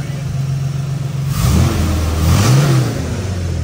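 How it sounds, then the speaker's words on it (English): An OBS Chevy truck engine runs loud for the first time in 8 years, a close rough idle that swells into two revs and drops back, with people talking over it. "First time seeing the Chevy run."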